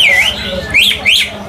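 A caged green leafbird (cucak ijo) sings close and loud, repeating rising and falling whistled phrases in quick bursts over a low background hum.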